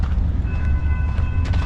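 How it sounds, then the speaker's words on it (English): Coaster commuter train approaching on the coastal track at Cardiff-by-the-Sea in Encinitas, California: a loud, steady rumble with whining wheel and rail tones and no pauses. "Oh, we got a train coming. That is probably the coaster."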